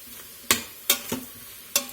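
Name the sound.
stirring sizzling jambalaya with onion and garlic powder in Instant Pot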